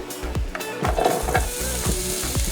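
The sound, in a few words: potatoes frying in oil in a pan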